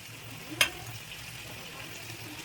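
Onion frying in lightly heated oil over low gas gives a faint, steady sizzle, broken by one sharp click early on, with no talk.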